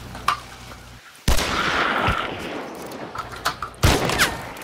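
Gunfire from the video game Hunt: Showdown, several sharp loud shots spread across a few seconds with a dense crackling burst in the middle and quieter pops between, set against game ambience.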